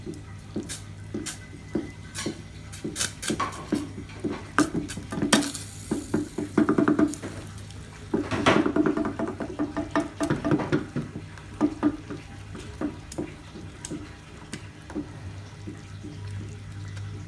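Sago pudding is stirred in a pot with a spoon, making repeated wet scraping and sloshing strokes at an uneven rhythm, close by and continuing without talk.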